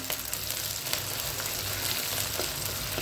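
Onions sauté in a clay pot for a netili fish kuzhambu, making a steady, moderately close sizzle with faint crackles and a few soft stirring taps, without any talk.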